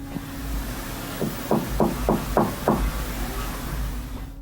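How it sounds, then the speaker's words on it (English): Someone knocks on a painted-over door from the far side, five or six evenly spaced raps that sound muffled and moderately distant over a steady low hum, with no talk. "The knocking sounds polite yet urgent, definitely human."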